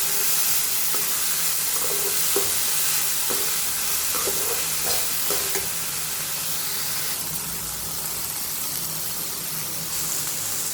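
Broad beans (avarakkai) fry in a pan with dried red chillies and curry leaves, a steady close sizzle and hiss with occasional scraping stirs, no voices.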